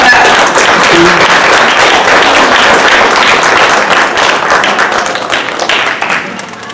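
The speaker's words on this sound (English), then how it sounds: "Clap, clap, clap." Loud, close applause from a conference audience at opening remarks, a thick burst of many hands clapping that carries steadily and then tapers off toward the end.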